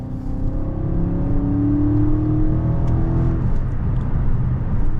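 A 500 hp Dodge Charger Scat Pack Last Call widebody in track mode holds a loud, close engine drone. The pitch climbs steadily, then drops off after about three seconds as the rumble continues, with no one talking.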